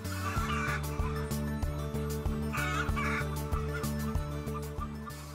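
Hens in an enriched colony housing system cluck and chatter as a dense flock, heard over a steady mechanical hum with faint regular ticking.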